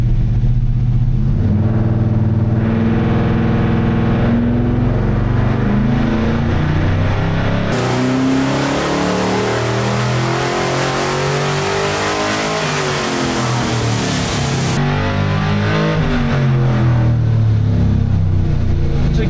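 A Holley Terminator X-tuned C10 pickup engine on a dyno roars steadily and then revs hard through a long, loud pull before easing back down, heard up close without pause.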